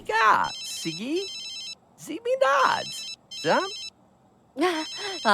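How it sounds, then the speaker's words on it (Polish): A cellphone ringtone in the video game The Sims 3 chimes in repeated bursts with gaps between, accompanied by bright melodic tones. "Ktoś dzwoni na komórkę Twojego SIMA."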